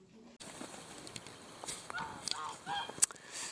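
Geese honk in a garden enclosure, several short nasal calls at middling distance, rising in a brief cluster with one sharp louder honk, over quiet outdoor ambience.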